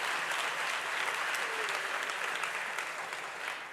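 Strong, sustained applause fills a conference hall, a steady broadband wash of many hands clapping at moderate distance that eases slightly at the very end.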